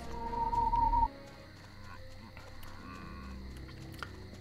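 A cow lows once in the Destroy All Humans video game, a sustained, moderately loud moo that cuts off abruptly, followed by quieter game ambience.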